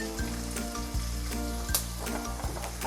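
Onions sizzle steadily in a hot pan for Agashi-style chicken poha bhujing, a continuous close frying hiss with occasional soft stirring knocks and no voices.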